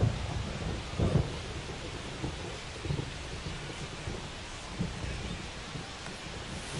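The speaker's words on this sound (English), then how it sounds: "This rain is not letting up." Steady rain hiss in the MLB The Show 25 baseball game, with low thunder rumbles rolling in at intervals under the downpour, no voices.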